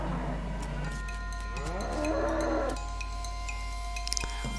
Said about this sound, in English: you hear ominous mooing